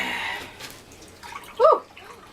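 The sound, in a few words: beef broth splashing as it is poured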